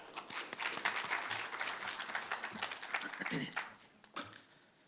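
Applause from a seminar audience welcoming the next presenter at a university forum, dense steady clapping that tapers off into a few scattered claps, fairly faint.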